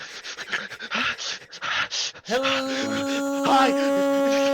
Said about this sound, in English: Just doing some breathing exercise.